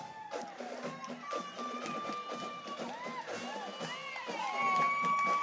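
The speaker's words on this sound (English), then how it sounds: "Getting a heck of an applause from the crowd." A crowd lining the street at a 4th of July parade in Lincoln County, West Virginia cheers a passing band, with excited shouts, whoops and children's voices rising over a busy outdoor din that swells toward the end.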